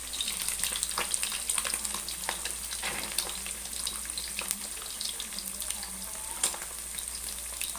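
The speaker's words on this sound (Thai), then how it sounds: "ทอดกรอบเลย" Fish, a mrigal carp, fries crisp in hot oil, giving a dense continuous crackling sizzle close by with occasional louder pops and faint stirring, without talk.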